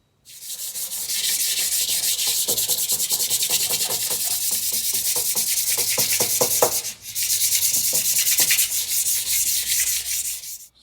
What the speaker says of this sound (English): I gave it a bit of a sand, I cleaned it up